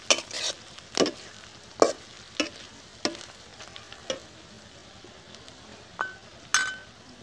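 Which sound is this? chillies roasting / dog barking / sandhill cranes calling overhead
chillies roasting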